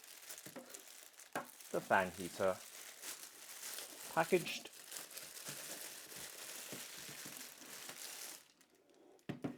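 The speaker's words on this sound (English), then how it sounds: "let's undo the clear plastic bag" Crinkly clear plastic bag rustling in short bursts close to the mic as it is unwrapped from a mini ceramic fan heater, with a voice talking between and over the crackles.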